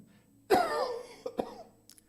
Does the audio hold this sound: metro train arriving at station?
no